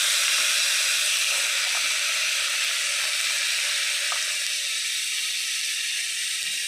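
Chopped tomato sizzles in a frying pan after ginger, garlic and cumin, a steady close hiss of hot oil with a few faint stirring taps, no voices.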